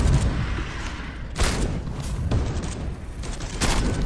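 Automated turret fire in Space Hulk: Deathwing on PS4, heard as loud, rough bursts of gunfire with heavy booming thumps and mechanical clatter, the blasts recurring over a dense, continuous din.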